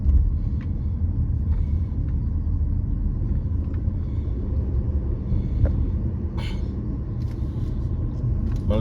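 A car is driven and accelerated, heard as a continuous low engine and road rumble from inside the cabin, with faint higher rattles and a few small knocks scattered through.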